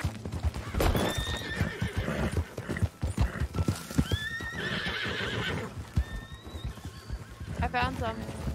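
Wild horses in Red Dead Redemption 2 give several loud whinnies over steady hoof clip-clop, fairly close, while voices talk across the scene.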